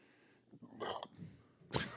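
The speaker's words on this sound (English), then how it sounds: "That was a velociraptor burp." A loud burp from a man during a podcast chat about beer, a short guttural belch building through the clip and ending in a harsh, raspy burst close to the microphone.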